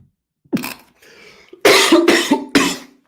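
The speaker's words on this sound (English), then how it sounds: "I had to cough." A few harsh coughs in quick succession, close by, after a brief softer sound; loud and abrupt with short pauses between.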